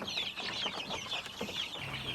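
Free-range backyard chickens clucking steadily in a flock, a continuous close chorus of overlapping hen calls with no voices.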